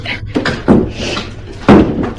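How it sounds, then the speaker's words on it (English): A hospital room door is slammed shut, with two heavy, close thuds about a second apart over a low background hum. "he secured the door and slammed it shut"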